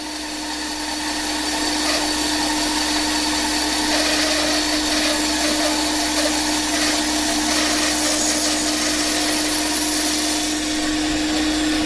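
Power saw cutting through wood at a stockroom supply presentation, a steady loud whining drone with a constant hum, running continuously for the whole stretch with no pauses.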